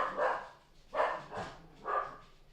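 Dog barking three times in a row, muffled and moderately distant, with short gaps between each bark in an indoor room.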